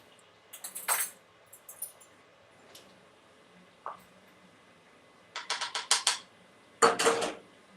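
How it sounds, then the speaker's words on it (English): A small soup spoon stirring spicy vegan corn chowder in a pot, bursts of light metallic clinks and scrapes against the pot side, coming in irregular close clusters with quiet gaps between. "I'm gonna stir my soup."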